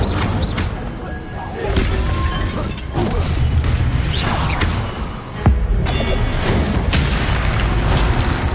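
In Hogwarts Legacy, Incendio fire spells burst with heavy booming blasts and crashing impacts over a continuous rumble of combat, one after another.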